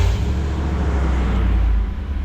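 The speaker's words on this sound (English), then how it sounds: "Now we start the car." A 2000 Dodge Durango engine running during an A/C compressor replacement, a loud, close, steady low rumble with a deep droning idle that dips slightly near the end, no speech.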